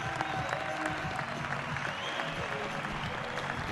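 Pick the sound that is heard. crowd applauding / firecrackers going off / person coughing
crowd applauding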